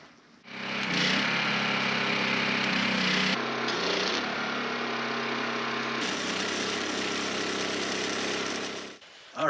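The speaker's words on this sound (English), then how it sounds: "So we'll weld those on" Brackets being welded onto steel support struts for a solar panel array, with a loud continuous buzzing crackle that holds steady for about eight seconds, then cuts off, close by and without talk.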